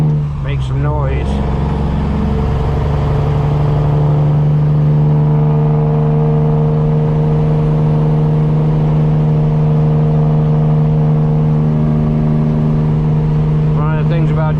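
A custom Peterbilt semi truck with straight pipes drones loudly and steadily in its power band, rumbling low with a rough, throaty exhaust tone that holds throughout without pause.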